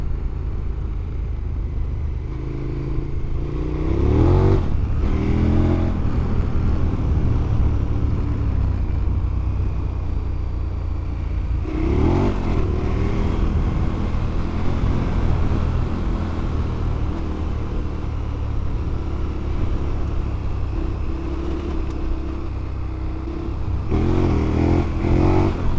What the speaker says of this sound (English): that was third gear power wheelies